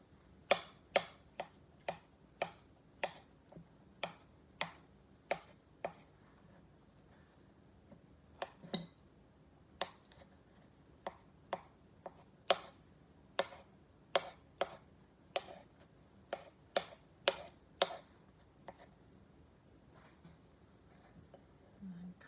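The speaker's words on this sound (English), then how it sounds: "You can cut these to whatever size you prefer for egg salad." A knife chops hard-boiled eggs for egg salad on a cutting board, giving a long run of crisp, evenly spaced taps at a moderate pace with brief pauses, under a faint voice.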